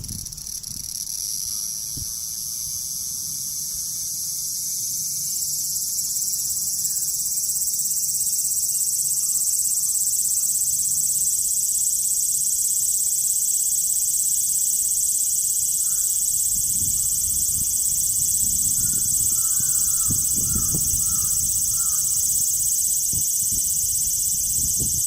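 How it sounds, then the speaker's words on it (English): Cicadas in Osaka, Japan keep up a dense, steady, high-pitched electric drone for the whole stretch, loud and unbroken, with faint low rumbles beneath and no voices. "I want to show you what cicadas in Osaka look and sound like."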